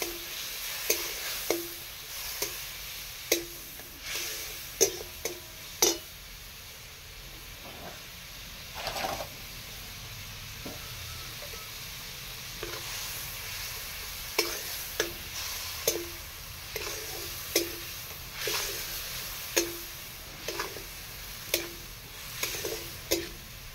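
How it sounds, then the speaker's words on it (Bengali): Spice paste sizzling in oil in a pan, a soft continuous fry broken by regular sharp scrapes and taps of a spoon stirring, moderately quiet and steady throughout with no talking. "একটু জল দিয়ে মশলাটা কষে নেব"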